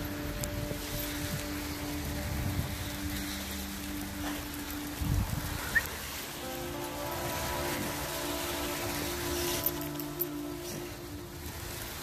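Sleet and rain fall outdoors over a front yard, a steady, faint hiss of patter with a few slightly louder taps scattered throughout.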